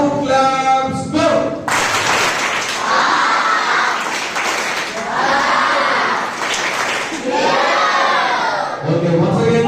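A crowd of children claps and cheers loudly and continuously at a Teachers' Day celebration. A brief sustained vocal tone comes at the start, and shouts rise and fall throughout.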